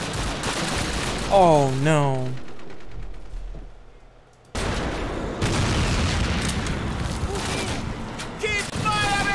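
Heavy gunfire in the WWII shooter Call of Duty: United Offensive on veteran difficulty, with loud bursts of machine-gun and rifle fire and booms, a brief lull, then a renewed dense barrage; a man exclaims in alarm at one point.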